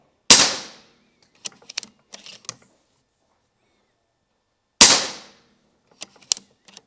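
Two sharp, loud shots from a Reximex Meta Premium bullpup air rifle roughly four seconds apart, each followed by a brief clatter of small mechanical clicks.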